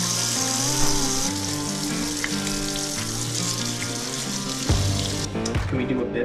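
Tap water runs steadily into a sink while a spoon is rinsed off with dishwashing detergent, a continuous close splashing wash with no talking.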